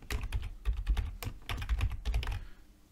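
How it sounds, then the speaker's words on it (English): Fingers type on a computer keyboard while code is entered in an editor, producing quick, close clusters of crisp key clicks in uneven bursts with short pauses between them. "What I'm going to do is just type"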